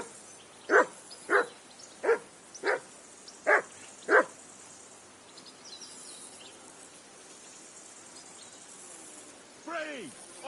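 Six loud, evenly spaced dog barks from a video game set in medieval Bohemia, each short and sharp, followed by quiet ambience and a faint whine near the end.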